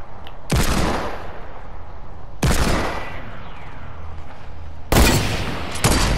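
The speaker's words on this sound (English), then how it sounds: "doing damage with a hunting rifle" Hunting rifle shots in a video game: four loud, sharp cracks spaced a second or two apart, each with a short decaying echo.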